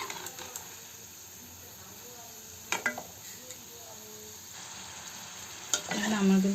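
Mini samosas frying in oil over a low flame, a soft continuous sizzle with occasional sharp clicks and taps of a utensil, faint and fairly close.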